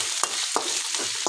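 Onions fry in a pan with a continuous hiss of hot oil, broken by three or four sharp spatula scrapes spaced evenly, close and fairly loud.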